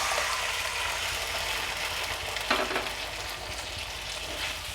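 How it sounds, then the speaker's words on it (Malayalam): Steady, close sizzle from a pan of fried onions as cooked dal made with salt and turmeric is added for parippu curry, with a brief splash partway through and the frying continuing evenly. "അപ്പോൾ ഈ ഒരു സ്റ്റേജിൽ നമുക്കിനി ഇതിലേക്ക് പരിപ്പ് ആഡ് ചെയ്ത് കൊടുക്കാം"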